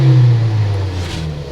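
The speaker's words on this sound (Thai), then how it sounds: "เขาก็บอกว่ากระทืบคันเร่งสองสามครั้ง" A car engine fitted with a BSM injection gas system is revved hard as the accelerator is stomped, a loud close roar that peaks at once and then winds down.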